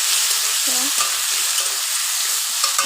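Cut potato pieces fry with cumin in hot oil, giving a steady, close, hissing sizzle with small stirring sounds throughout.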